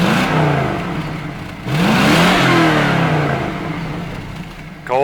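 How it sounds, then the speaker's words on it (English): Engine of a 2021 Lamborghini Aventador replica, Pirelli Edition, revs up loudly twice on a cold morning, rising and falling with a rough mechanical roar heard close from behind the car. "Sammy, fire that baby up. Let's hear what she sounds like back here."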